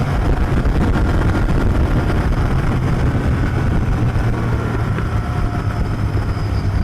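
A Royal Enfield Interceptor 650 motorcycle, converted to Continental GT650 styling, accelerates hard in second gear: a loud, continuous engine roar with steadily rising pitch across the clip, heard alone without talk.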